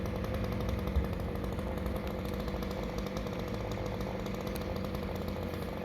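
A chainsaw runs steadily and loudly while cutting a tree branch during cleanup after Hurricane Ian, the engine droning without pause.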